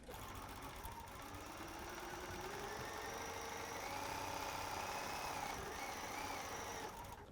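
A sewing machine runs steadily through a final seam on a North Pole Sampler quilt gift block, a continuous close mechanical whir that holds for the whole stretch with no talk.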